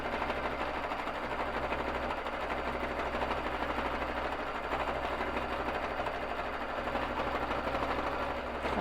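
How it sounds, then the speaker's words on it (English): A Baby Lock Jazz sewing machine stitches steadily while free-motion quilting on a frame, giving a continuous, even, rapid mechanical chatter at close range. Nobody speaks over it. "So here I am quilting."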